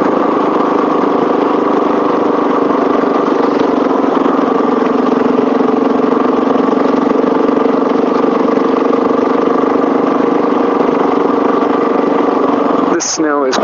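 A Honda XR650L motorcycle idles steadily on a snowy road, a loud, even single-cylinder drone holding constant from start to finish before a brief shift at the very end.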